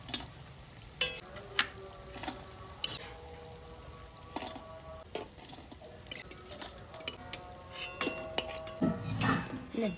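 Paneer pieces sizzle in hot oil as a spatula scrapes and taps the pan, with scattered metallic clinks and stirring sounds close by, fairly quiet overall with a brief louder splash near the end.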